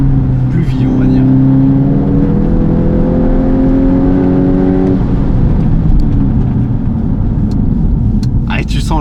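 Volkswagen Golf 8 GTI Clubsport 45 driving, a loud steady engine drone with rising then falling tones as it accelerates and brakes, running continuously under a voice talking.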